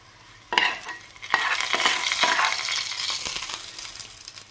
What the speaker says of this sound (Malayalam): ഇത് നമുക്ക് മീൻ കറിയിലോട്ടൊന്ന് ഒഴിച്ചു കൊടുക്കാം.